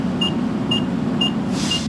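A steady low hum, like an idling truck or cab, with a faint high electronic beep repeating about every half second, an air brake low air pressure warning buzzer.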